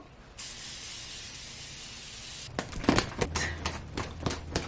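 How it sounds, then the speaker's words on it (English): A long steady hiss of Morphe makeup setting spray from a bottle held close, followed by a series of quick rustling clicks and taps. "take my Morphe setting spray"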